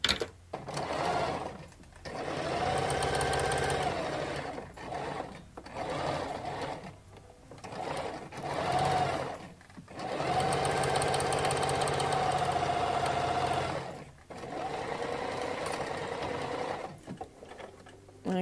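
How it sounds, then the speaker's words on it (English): A sewing machine runs in several bursts while stitching the side seam of an envelope pillow made from African print fabric, its steady mechanical hum stopping and restarting with short pauses between runs, up close and with no talking. "So once it's done, I'm sewing the side again."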